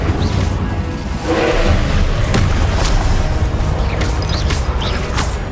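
An Incendio fire spell blasting in Hogwarts Legacy on PC: deep booming bursts with crackling, popping hits at irregular moments over a loud, rumbling game soundscape, with no voices.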